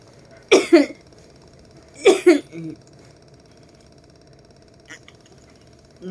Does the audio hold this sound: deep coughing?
yes